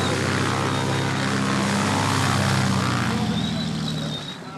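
A propeller aircraft landing on a grass or gravel runway on Foula, a remote island, with a loud, steady engine drone that fills the whole stretch and eases off slightly near the end.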